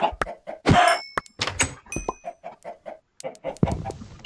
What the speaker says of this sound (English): Make sure none of the chickens escape.